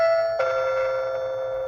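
A smart video doorbell chime plays a clear two-tone ding-dong, close and alone, with the second tone ringing out and slowly fading.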